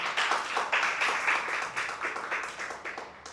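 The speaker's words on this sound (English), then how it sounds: "please give a huge round of applause for that wonderful child, Sarthak" Parents and students at a chess school's annual awards meet clap for a child, a dense, even applause of many hands held at moderate loudness for a few seconds.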